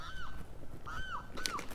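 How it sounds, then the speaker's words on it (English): A loud bird near a lake repeatedly gives harsh, honking calls, three drawn-out squawks in under two seconds over a noisy outdoor background. "I kind of feel like that bird is the most annoying sound in the world."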